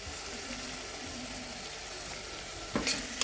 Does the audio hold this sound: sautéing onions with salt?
yes